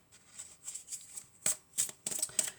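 A deck of oracle cards is shuffled by hand in a quiet room, with soft riffling bursts that come faster and sharper toward the end, close and with no voices.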